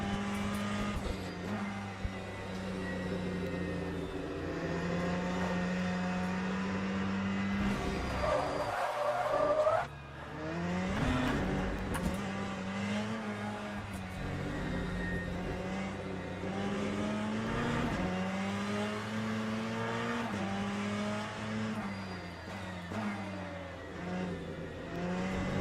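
Race car tyres chirp and squeal under a steady engine drone in the Le Mans Ultimate racing sim, with a brief louder scrub near the middle as the car brakes and turns.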